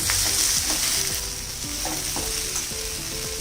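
Chopped tomatoes sautéing in hot oil, a steady close sizzle with repeated stirring scrapes at an even pace; no voices.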